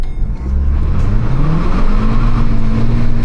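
A Volkswagen CC Sportline sedan with a 1.4 TSI 160 HP engine revs close by, its loud, steady engine note climbing in pitch as it accelerates, with no talking.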